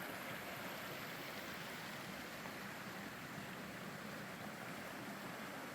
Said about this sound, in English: The creek is running nearby.